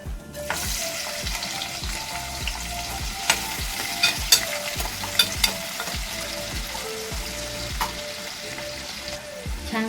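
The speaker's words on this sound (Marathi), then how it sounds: "आता यामध्ये मी जिरं मोहरी घालते आहे आणि त्यानंतर हा बारीक चिरलेला कांदा" Cumin, mustard seeds and finely chopped onion fry in hot oil, giving a continuous close sizzle with scattered pops and light stirring clicks throughout.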